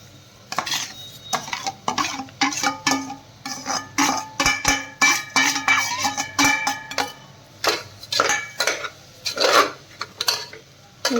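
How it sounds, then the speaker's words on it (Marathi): Dalia is tipped into a frying pan and stirred, with a spoon repeatedly scraping and clinking against the metal in an irregular rhythm of close, fairly loud strokes and no speech. "आणि हे छान फ्राय करून घेते. आता मी याच्यामध्ये टाकते हे दलिया."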